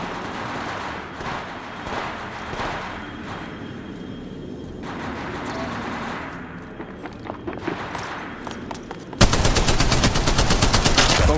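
Gunfire in the video game Apex Legends: scattered shots and game sounds give way to a loud, rapid automatic burst of sustained firing at the close.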